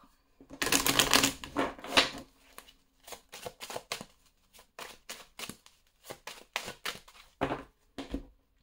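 Oracle cards being shuffled by hand: a long riffling burst, then a series of short, separate card slaps and flicks in an uneven rhythm, close and without talk.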